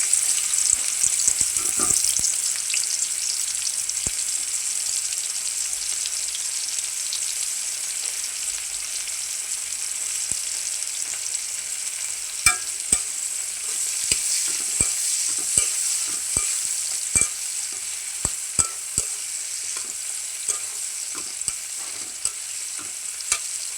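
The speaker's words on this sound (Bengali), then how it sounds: "মশলাটা এখন আমি ভালো করে কষাই নিই" Spices fry in oil in a pan with a constant bright sizzle, while a spoon scrapes and stirs, giving scattered sharp clicks and taps close by.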